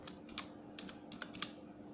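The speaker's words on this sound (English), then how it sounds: "I'm typing computer" Computer keyboard being typed on while filling text into MS Word, a few quiet, irregular key clicks in small clusters over a faint steady hum, with no voices.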